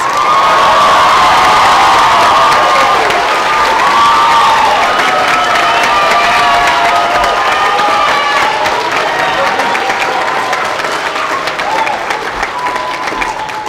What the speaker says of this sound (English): Let's give all our graduates a round of applause.